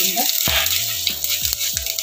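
Spices for a prawn curry with kudampuli crackle and sizzle in hot oil as a tempering, a close, steady frying hiss running throughout with a few sharper pops.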